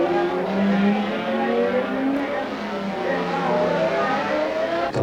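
Racing motorcycles roar steadily during a 1977/78 Marlboro Series race, among them a 750 Yamaha misfiring on three of its four cylinders, a loud continuous engine drone with shifting pitch and no pauses.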